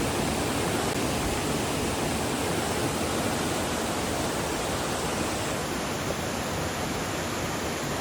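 Mountain valley stream at Sogeumgang Valley on Mt. Odaesan in summer, a dense, steady rush of flowing water that fills the whole stretch evenly and loudly, with no voices.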